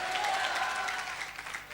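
A church congregation claps during a worship service, a soft, steady patter of applause that stays even throughout.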